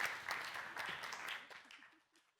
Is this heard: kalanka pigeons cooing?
no